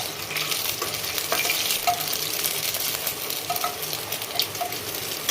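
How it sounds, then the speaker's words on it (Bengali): Dried red chilies, cumin seeds and whole garam masala crackle in hot oil, a close, busy sizzle with scattered pops and light stirring scrapes. "প্রথমে শুকনো লঙ্কা দিচ্ছি, জিরে ফোড়ন, একটু গোটা গরম মশলা,"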